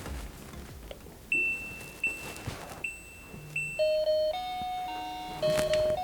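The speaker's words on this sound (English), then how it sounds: "We will now demonstrate what happens when a user presses the doorbell." Electronic chimes of a Comelit Kitvisto door entry system ring out several times, each a bright two-tone ding-dong, followed by a rising run of beeping melodic tones near the end.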